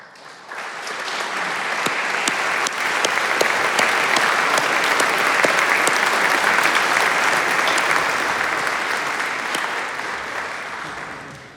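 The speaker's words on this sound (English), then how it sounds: "please stand and be recognized with a round of applause" An alumni awards audience applauds in a continuous, full round of clapping that swells in, holds steady and loud, then tapers off at the end.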